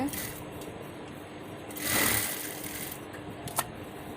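A sewing machine runs steadily while stitching piping and a frill onto a nightie, its continuous mechanical whir holding close throughout and swelling briefly in the middle, with a short click near the end.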